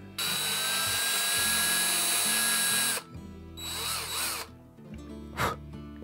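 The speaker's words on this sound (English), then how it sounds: "then we will drill holes with drill bit smaller one with depth stop" A small power drill bit with a depth stop bores holes into the headstock of a vintage Gibson guitar. It opens with one long, loud, high whine for about three seconds, followed by shorter bursts and softer rubbing scrapes.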